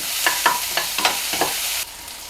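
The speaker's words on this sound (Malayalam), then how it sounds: "ഒരു അഞ്ചെട്ട് ചെറിയ ഉള്ളി ചെറുതായിട്ട് അരിഞ്ഞത് എല്ലാം കൂടി ചേർത്തിട്ട് നന്നായിട്ടൊന്ന് വഴറ്റി കൊടുക്കാം" Finely chopped small shallots are sautéed in a hot pan for a vegetable thoran, with a steady sizzle under a series of rhythmic scraping stir strokes that stop abruptly near the end.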